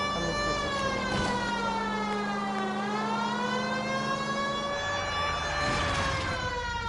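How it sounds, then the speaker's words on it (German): A police car siren in the L.A. Noire video game wails up and down in a loud, continuous harmonic sweep that rises and falls twice over a low engine hum. "Da müssen wir mit Sirene hin."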